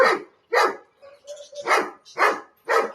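A puppy barking in a string of five or six sharp, high yaps with a thin whine between them, close and loud with no talking.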